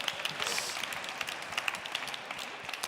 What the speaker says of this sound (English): you keep getting the rounds of applause